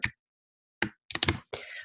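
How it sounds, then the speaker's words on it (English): Loud typing on a computer keyboard nearby, heard as short clattering bursts of keystrokes separated by brief silent pauses, with no speech. "I'm sorry if my typing is loud."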